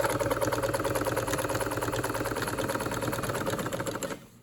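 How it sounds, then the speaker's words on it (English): A vintage blue-green Brother cam-driven sewing machine runs a zigzag stitch with a rapid, even, loud clattering rhythm close by, then stops near the end. "we're gonna go ahead with a basic zigzag stitch"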